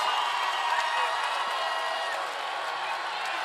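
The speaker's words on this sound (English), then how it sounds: "And what a crowd. It is the first quarter, and they are already into this." Basketball arena crowd at an NCAA men's semifinal between Seton Hall and Middle Tennessee at the Murphy Center, a steady loud roar of cheering and shouting throughout with no single voice standing out.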